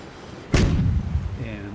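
A cannon fires as the starting signal in the sailing video game Virtual Skipper 5, one sudden loud boom followed by a rumbling decay over steady background noise.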